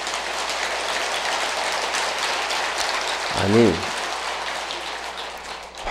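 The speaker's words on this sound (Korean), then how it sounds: "박수 치는 시간인가 봐." Audience clapping during a Buddhist dharma assembly, a steady, dense patter of many hands throughout, with a short spoken interjection in the middle.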